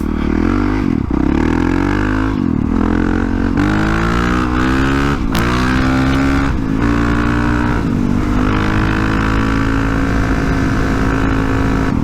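A Honda CRF450RL dirt bike fitted with a Rekluse automatic clutch pulls away, its single-cylinder engine revving up in several rising surges separated by gear changes, loud and close throughout.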